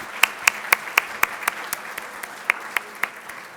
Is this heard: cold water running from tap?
no